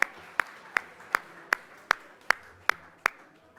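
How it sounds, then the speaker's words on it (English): Sparse, evenly spaced single claps ring out at an awards ceremony, about eight sharp hand strikes at a steady rhythm over a quiet room, thin and moderately close rather than a full crowd ovation. "So please, a big round of applause"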